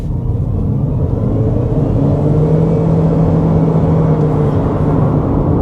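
A Haval Jolion Hybrid pulling away from a rolling start at about 30, heard from inside as a low steady drone with a rising whirring tone and road rumble, continuous and moderately loud, no talking.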